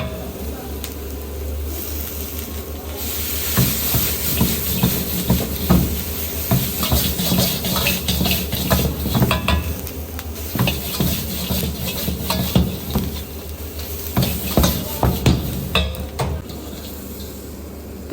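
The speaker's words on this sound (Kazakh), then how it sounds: "Ал енді дайындап алған дәмдеуіштерімізді салып, оны жақсылап тұрып араластырып қуырамыз." Fries and meat with spices fry and sizzle in a pan while being stirred, a steady loud crackle broken by scraping and clattering of the utensil against the pan.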